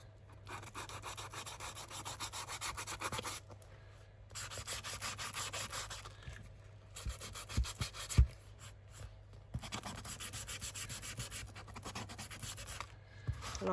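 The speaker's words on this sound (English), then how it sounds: "Give that a good old sand." Paper scraps for a junk journal being sanded by hand, a soft, close scratchy rubbing in repeated strokes with short pauses between bursts, quiet and alone.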